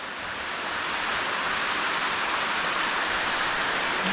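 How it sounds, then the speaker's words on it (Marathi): Steady rain pours down in a continuous hiss, close and even, with no voices. "दहा वाजायला आले आहेत आणि पाऊस आला आहे"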